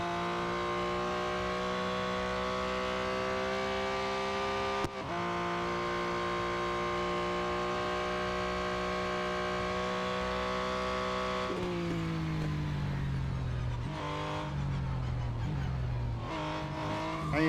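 A race car in Real Racing 3 roars continuously at high revs with tonal engine whine, shifting and dipping through braking and cornering, with tire squeal near the end.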